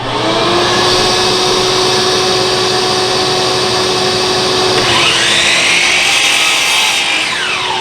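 A power saw rips through an oak board for a miter joint on a tool chest, a loud, steady, close whine that holds constant and then shifts in tone partway through the cut.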